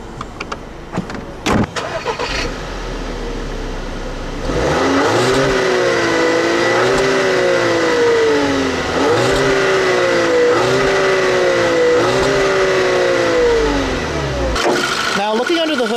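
A 2010 Volkswagen Tiguan with a 2-liter turbocharged TSI four-cylinder starts up after a few clunks, then its engine and exhaust rev loudly and repeatedly in rising and falling sweeps, heard up close, before settling back to idle.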